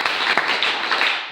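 A church congregation applauding the Lord during a sermon, a brief, even wash of many hands clapping together, close and fairly loud.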